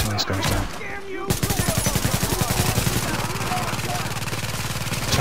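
Rapid automatic turret fire in the video game The Division, a steady stream of loud, evenly spaced shots that starts abruptly and hammers on without pause.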